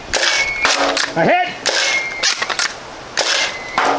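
A hip-fired gun sounds in loud, sharp reports at a range with bottles set up as targets, about four shots spaced through the moment, with a metallic ring and short talk between shots.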